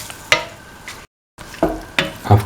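A mung bean and tomato stew mixture with water cooking in a pot, with a few short stirring scrapes and a soft simmering sizzle, a brief gap of silence midway and a low bubbling at the end.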